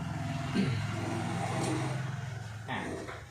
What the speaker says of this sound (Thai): ด้านหลังจะมีมอเตอร์ เป็นมอเตอร์ปัดน้ำฝนนะครับ ของรถยนต์นะครับ